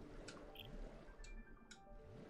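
Water being added in the dinosaur park-building game Jurassic World Evolution 2, heard as a few soft squishy, dripping liquid splashes in short bursts over a steady low background hum.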